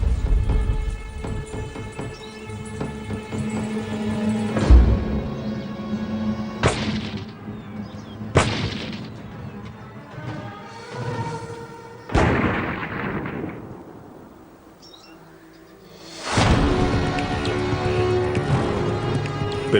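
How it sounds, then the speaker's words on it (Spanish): A large explosive charge blasts a watermelon apart, part of a run of sharp, loud detonations spaced a few seconds apart, each followed by a rumbling decay, with a brief lull before the final blast. "no solo arrancaremos un trozo de la sandía, sino que la volaremos en 1000 pedazos"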